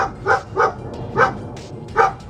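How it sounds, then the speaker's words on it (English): Several dogs bark in a residential backyard that opens onto a park, four sharp barks spaced roughly evenly over a couple of seconds, fairly close and loud, over a steady low background hum. "we've got these lovely dogs right here"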